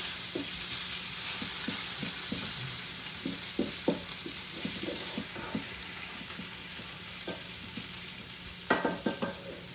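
Southern home-fried potatoes sizzle steadily in a pan, with repeated scraping stirs breaking through the constant crackle and a cluster of louder turns near the end.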